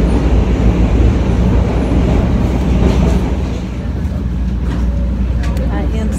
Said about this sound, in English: Still on the train